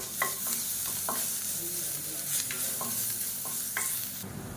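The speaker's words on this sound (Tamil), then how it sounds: "இது வந்து நல்லா மொறுமொறுன்னு வறுத்துக்கலாம்." Crushed garlic cloves fry until crisp in hot oil for chutney, a soft continuous sizzle broken by light scraping stirs of a spoon against the pan, close and fairly quiet with no talking.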